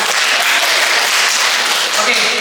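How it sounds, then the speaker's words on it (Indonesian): An audience claps in dense, steady applause that holds at full strength for the whole moment, from a crowd at a church gathering. "Tepuk tangan dulu buat saya."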